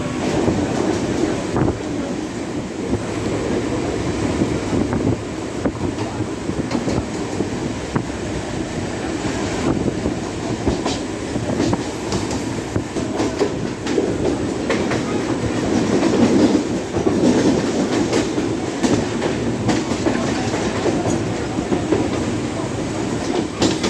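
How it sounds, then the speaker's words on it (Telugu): A Mumbai fast local train pulls out and runs on the Central line from Dadar toward CSMT, heard from on board as a constant loud rumble with rhythmic clickety-clack of wheels over rail joints and some wind buffeting. "సిగ్నల్ గ్రీన్లోనే ఉంటుంది ఎప్పుడు, ఎందుకంటే జస్ట్ ఒక 5 సెకండ్స్ కూడా సరిగ్గా ఆగకుండా బయలుదేరిపోతూ ఉంటుంది అన్నమాట ట్రైన్"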